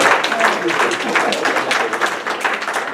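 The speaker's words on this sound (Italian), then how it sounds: "un applauso allora ai corsisti della pubblica amministrazione" An audience at a certificate ceremony for Friulian language and culture courses applauds the participating public administration trainees, giving dense, steady clapping that stays loud for the whole stretch.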